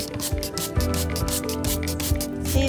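Repeated hissing bursts from a hand sprayer spraying vinegar solution on weeds, pumped in a quick irregular rhythm with some rustling underneath.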